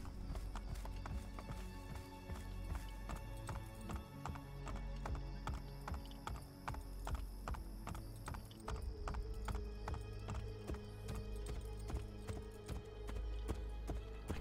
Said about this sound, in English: I can ride horses in a city